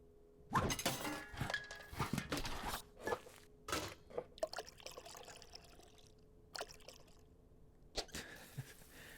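Oil poured into a bowl in the cooking game Venba comes in several quiet, separate splashy pours and trickles with short silent gaps between them. No voices.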